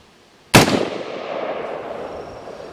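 A single AR-15 rifle shot fired from a shooting bench cracks loud and close, followed by a decaying echo.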